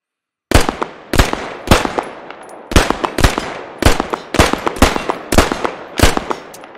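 SKS rifle firing in the military shooter game Squad: about a dozen sharp, punchy semi-automatic shots at an uneven but steady pace, each with a short echoing tail, loud and alone.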